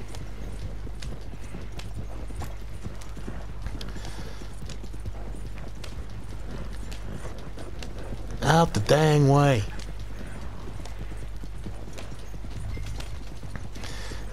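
Horse hooves clip-clop at a gallop in Red Dead Redemption 2 as several horses ride together, giving a steady, dense patter throughout. A horse briefly whinnies partway through, and someone speaks a short phrase.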